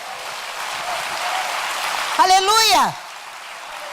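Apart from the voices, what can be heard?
congregation applauding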